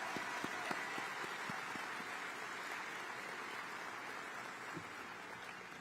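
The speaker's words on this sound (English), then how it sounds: "Let's give him a round of applause." An audience at a county chairs' brunch applauds, a faint, steady wash of clapping from a distance, with a few sharper individual claps early on.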